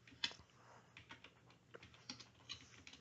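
Faint, close tapping on a computer keyboard, a quick irregular run of keystrokes with soft clicks and short pauses.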